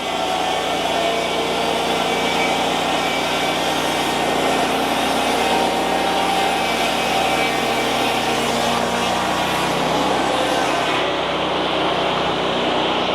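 A sawmill blade runs through spruce making a bevel cut for siding, a loud continuous whining drone with a steady grinding roar that holds level and tapers slightly near the end.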